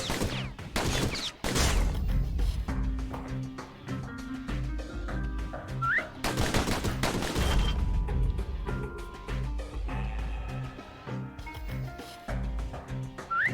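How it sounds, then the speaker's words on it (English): Pistols fire in the video game Bastion, delivering rapid bursts of sharp shots amid clanking mechanisms and layered game effects, steady and fairly quiet. "Those pistols could spit out rounds just as quick as you could pull the trigger."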